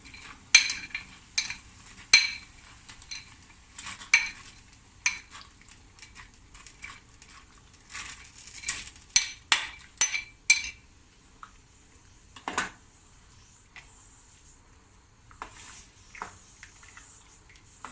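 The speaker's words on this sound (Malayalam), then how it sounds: "അപ്പോൾ നമ്മുടെ പാസ്ത നന്നായി ഇങ്ങനെ ഇളക്കിക്കൊണ്ടിരിക്കണം" A spoon clinks and scrapes against a pot as pasta is stirred in boiling water, with irregular bursts of metallic taps and knocks, fairly quiet and close, with pauses between strokes.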